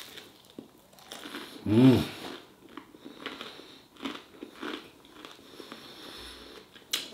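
Garlic bread is bitten into with one loud crunchy bite, followed by softer chewing and a sniff close to the mic, and a brief murmur of approval.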